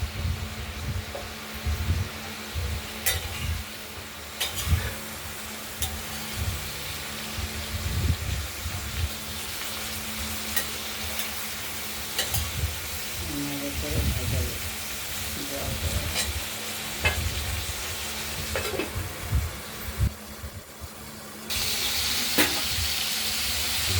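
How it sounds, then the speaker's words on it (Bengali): Ridge gourd fries in oil with turmeric while releasing its water, giving a steady close sizzle broken by scattered clicks and scrapes of stirring. "ঝিঙেগুলো আমরা তেলের মধ্যে একটু জল তো বেরোবেই"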